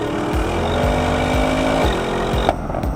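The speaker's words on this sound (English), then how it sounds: "Where you're going to see it shine is out on the open road, where you can really let that big V8 sing." A Porsche Cayenne GTS Coupe with a big V8 revs hard and close, its engine note climbing steadily and then dropping sharply as the revs fall away near the end.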